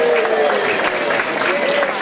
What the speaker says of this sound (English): And let's also give a round of applause to Charlie Tattaglione of George's Cafe.